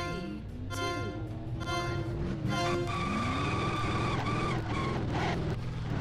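Race cars revving and launching off the start line in the video game Ford Racing 3: loud, sustained engine roars rising in pitch with overlapping gear shifts, close and continuous.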